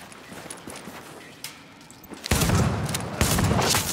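Shotgun fire in the video game The Division, heard as a couple of loud, broad blasts after a quieter stretch of scattered faint pops and shuffling, close and heavy with reverberant tails.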